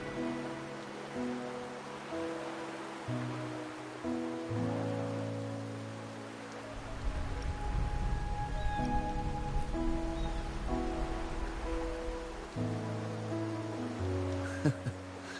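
Steady rain falling in the video game Wuthering Waves, a soft continuous hiss beneath calm melodic game music throughout.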